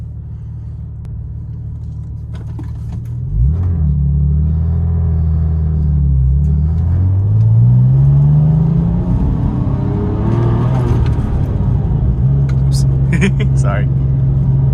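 Porsche 996 Turbo with a Fabspeed Gen 1 exhaust and 100-cell cats, fully warmed up, heard from inside as a deep idle rumble rising and falling through a few gentle revs, with someone talking briefly.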